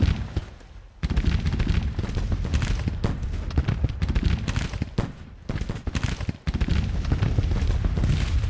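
Infantry gunfire in a Civil War strategy game, a dense, continuous crackle of rifle volleys with heavy booms layered in, loud and sustained with only brief lulls.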